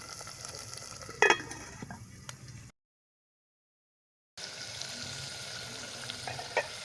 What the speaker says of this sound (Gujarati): ગ્રેવીમાંથી તેલ છૂટું પડે ત્યાં સુધી આપણે એને ઢાંકીને થોડીવાર 2 થી 3 મિનિટ ચડવા દઈશું.